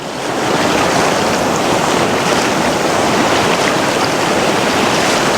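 Fast-flowing water of the Kauaeranga River in New Zealand rushes loudly and steadily, a dense continuous roar close by with no talking.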